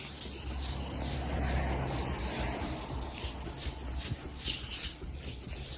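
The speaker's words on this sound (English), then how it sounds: "I've just finished wet sanding the bumper" Hand wet sanding of a classic Mk5 Ford Escort bumper with 1200 grit paper, a steady close rubbing and rasping of paper over wet paintwork in continuous back-and-forth strokes, with no talking.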